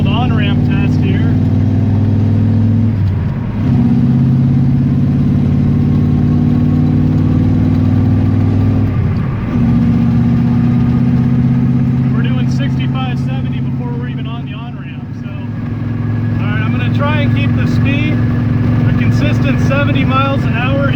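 A V8 car fitted with a lawn mower carburetor accelerates up an on-ramp, its steady, loud engine drone climbing in pitch and briefly dipping at two gear changes, with a voice talking over it later.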